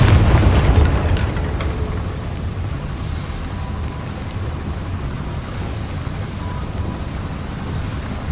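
Bombarda spell explosion in the Hogwarts Legacy video game, a sharp burst followed by a deep boom that fades into a long rumbling wash of ambient noise.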